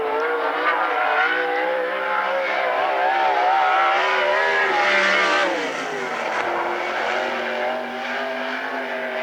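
A sprint car on a qualifying lap at the Central Washington State Fair race track, a loud, sustained engine roar whose pitch rises and falls through the corners, close and dominant, fading slightly near the end.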